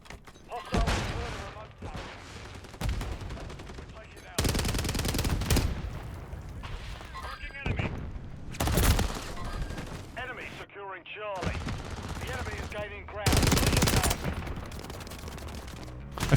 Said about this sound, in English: Some good shooting there on my part.